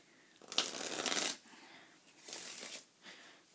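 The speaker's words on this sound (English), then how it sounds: "you can start off the trick by giving the deck some shuffles" Cards are shuffled in two quick riffling bursts, close and crisp, with a brief pause between them.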